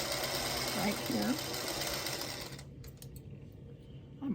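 A sewing machine stitches quilt block squares with a quarter-inch seam allowance, a steady fast whirring hum that stops partway, followed by quieter handling sounds, with a voice talking over it.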